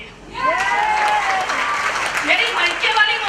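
An audience claps at a gathering honouring two mothers, a dense sustained round of applause that rises quickly and holds, with a voice speaking over it.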